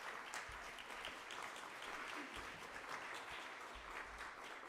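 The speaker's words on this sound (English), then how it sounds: "Let's give a big round of applause for our presenters." Faint, distant applause from a town hall audience for its presenters, a soft even patter of many hands with low rumbling thumps underneath.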